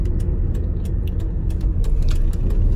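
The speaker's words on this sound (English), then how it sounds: "We are driving to our friend's house" Steady low rumble of a car driving along a road, heard from inside the cabin, with a few faint light clicks or rattles above the continuous road and engine noise and no talking.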